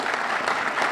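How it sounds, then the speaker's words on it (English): Audience applause breaks out at a school district reading room dedication, a brief, even burst of many hands clapping together with no voices over it. "Yeah, clap for them."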